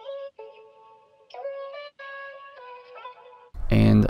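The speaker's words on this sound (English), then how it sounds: "I found this vocal kind of loop chop thing in Nami's kit, which sounds like this dry." Dry vocal loop chop from a sample kit, sustained tonal vocal notes in short phrases with brief gaps, ending in a louder, denser burst at the close; no talking.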